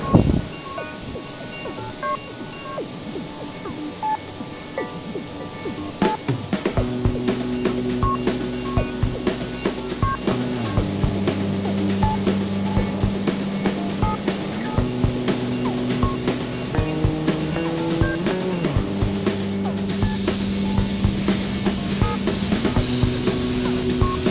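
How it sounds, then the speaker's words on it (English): A Sagola Mini Xtreme spray gun sprays chrome paint with a steady close hiss, while music with shifting tones plays throughout. "I'm using the Sagola Mini to spray the chrome"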